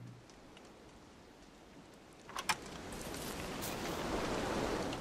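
Rain falls in the video game Don't Starve, a soft broadband hiss that swells after a couple of seconds into a steady, fairly close downpour with a few brief spatters, and no talking.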